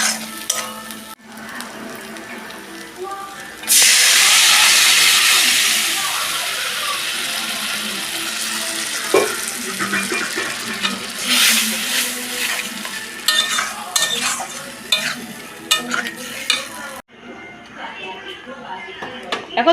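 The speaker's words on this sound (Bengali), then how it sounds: "এর মধ্যে এবার কড়াইটা দিয়ে জলটা ঢেলে দেবো" Water poured into frying masala in a wok bursts into a loud, sudden hiss that slowly fades into lively sizzling, with scattered stirring scrapes and clinks from the pan.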